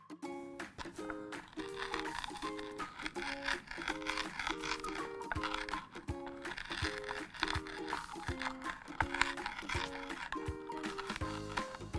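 Toasted peppercorns and fennel seeds are ground on a chopping board, giving repeated crunchy, gritty strokes in a steady rhythm over soft background music.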